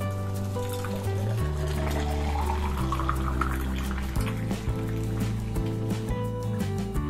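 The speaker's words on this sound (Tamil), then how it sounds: "இந்த ஜூஸ வந்து நம்ம அப்படியே ஊத்திக்கலாம்" Unstrained, healthy body-cooling homemade juice poured straight into a container, a steady liquid trickle and fill with a gently rising pitch, close and clear, with no talking.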